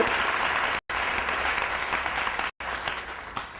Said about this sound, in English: Let's give a good clap for their arrangement